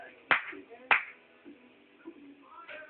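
Two crisp hand claps about half a second apart set off a sound-activated switch, with soft talking underneath and between them.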